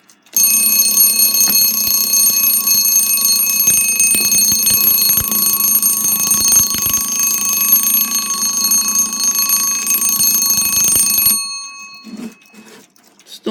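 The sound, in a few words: Westclox Baby Ben wartime 1944 alarm clock ringing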